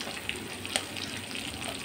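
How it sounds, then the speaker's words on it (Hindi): Onion and green chili sizzle in a pan over ginger and garlic that are already browned, a steady hiss from close by with a couple of sharp crackles and no talking. "अब हम डालेंगे प्याज। साथ में दो हरी मिर्च"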